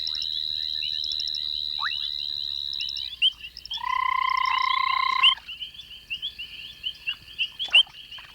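Frogs call at a pond at night, sustained trilling and rapid chirping croaks layered together, loud and close, ending in scattered short clicks.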